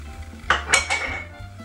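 Almond cream being beaten in a bowl just after ground almonds are added, giving a few quick clinking, scraping strokes against the bowl over a low background hum, with no talking.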